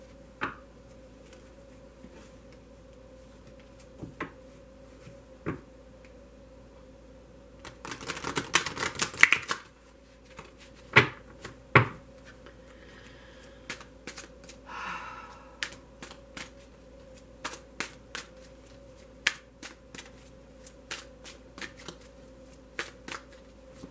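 Tarot cards are shuffled on a tablecloth: a dense burst of riffling, then scattered soft slaps and taps of cards, quiet and close.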